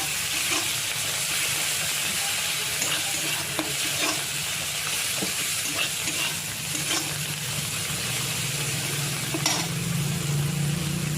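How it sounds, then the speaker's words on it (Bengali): Fried onion, garlic, tomato and fresh coriander are stirred in a pan for a moong dal with katla fish head, giving a loud, continuous sizzle and hiss with scattered utensil scrapes throughout. "ধনেপাতা দিয়ে এবার নাড়বো"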